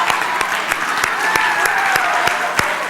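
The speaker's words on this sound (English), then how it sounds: "Let's give a standing applause for Billy Graham." Audience applause fills a church service at a spiritual campus: steady, dense clapping from a crowd with a few sharper individual claps standing out. There is no speech over it.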